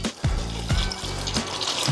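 Water poured from a container onto Canna Coco growing medium, a close, bubbling trickle broken by a few soft thumps and gulps as the flow shifts.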